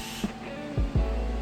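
A few short bursts of got2b Glue freeze hair spray being sprayed onto a wig, faint hissy puffs close to the microphone over a quiet room hum.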